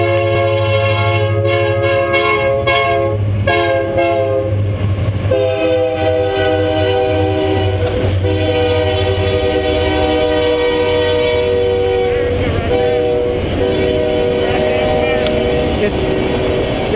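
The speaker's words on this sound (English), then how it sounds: "Why do you want to record the train?" A train passes at an airsoft game on a city close-quarters field, a loud, steady rumble with tonal horn-like drones throughout. People talk over it.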